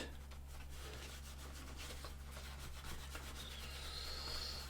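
A wool dauber working dye into a small leather coin wallet: steady, soft rubbing and dabbing strokes against a constant low hum, close and quiet, no talking.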